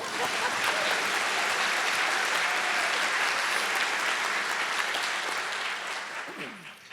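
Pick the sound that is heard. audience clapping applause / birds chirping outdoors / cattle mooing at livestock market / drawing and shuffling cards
audience clapping applause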